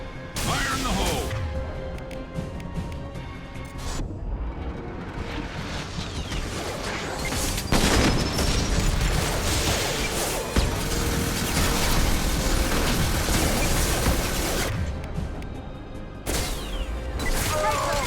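Mass Effect 2 combat with a grenade going off: crashing and smashing impacts, whooshes and booms over continuous battle noise, with brief talk mixed in.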